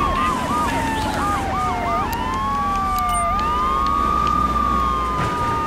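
A police car siren in the GTA III video game wails loudly and close, starting with quick yelping cycles and then shifting into a long rising and falling wail over a steady engine hum.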